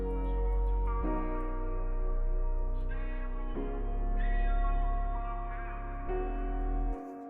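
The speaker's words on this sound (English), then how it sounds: "Bring up the reverb." A hip-hop beat plays with reverb on it. Sustained, harmonically rich synth chords sit over a deep booming bass, with the chords changing every second or so and a washed-out tail before the sound cuts off abruptly.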